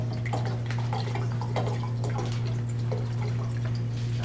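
Water being poured out of a bottle makes faint, intermittent splashes and drips against a strong steady electrical hum, with no voices.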